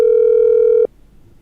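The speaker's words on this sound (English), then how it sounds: "Seems like that phone number is ringing out." A phone line on a live call-in show gives a single long, steady electronic ringback tone that holds for under a second, then stops abruptly and leaves a faint hiss.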